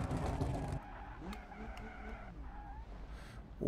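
A car skids sideways in BeamNG.drive, its tires squealing and engine whining in a loud burst at the start. A long, quieter stretch of sliding and scraping follows, with the engine rising again at the end.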